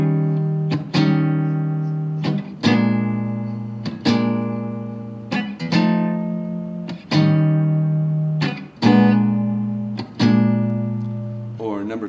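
Guitar strumming a 12-bar blues rhythm in a masterclass setting, clear close chords struck in a steady repeating pattern of paired hits that ring out between strokes, with no voices over it.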